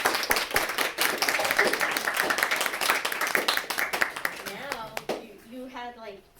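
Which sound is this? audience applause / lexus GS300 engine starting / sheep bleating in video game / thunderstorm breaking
audience applause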